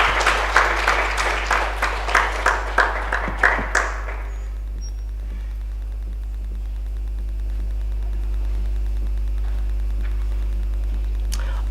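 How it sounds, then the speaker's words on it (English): A short burst of about ten scattered handclaps from a small audience at a talk on South Africa thirty years after democracy, fading after four seconds into a steady electrical hum and static. "Can you please give Sister Sarah a round of applause?"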